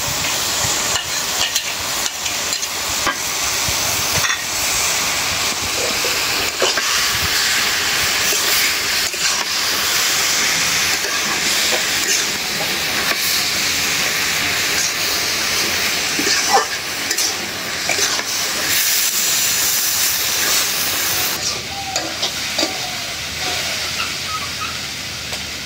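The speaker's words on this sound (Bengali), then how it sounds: "ভাজা হয়ে গেল চিংড়ি মাছ" Prawns frying in a pan, with a long steady hiss and sizzle running throughout, occasional stirring clatter and a slight drop in intensity near the end, no talk.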